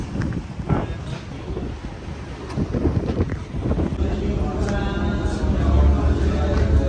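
Gusty wind at Cadiz buffets the microphone with rough, low rumbling, growing stronger toward the end, while voices talk faintly underneath.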